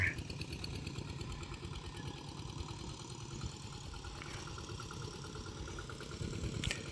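A tractor engine runs steadily while plowing a rice field beside a road, a continuous mid-to-low rumble with a knocking, idling texture that holds at even loudness throughout, with no talking.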